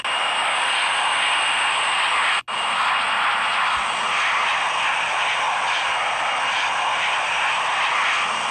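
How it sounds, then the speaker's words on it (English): Alaska Airlines Boeing 737-800 jet engines roar steadily from inside the cabin during flight, a loud broadband hiss and rumble with a brief cutout partway through. "plane started ascent right about now"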